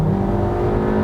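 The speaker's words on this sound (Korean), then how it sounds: "엔진 사운드가 나쁘지는 않은데" A Kia K3 with a 1.6-litre engine and IVT continuously variable transmission drones steadily while driving, a loud, constant engine hum heard from inside the cabin with no talking.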